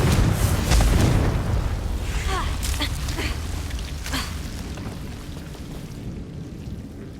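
A Confringo blasting curse bursts in Hogwarts Legacy, giving a loud booming blast up front that rolls off into a long rumbling, crackling wash of debris with no voices.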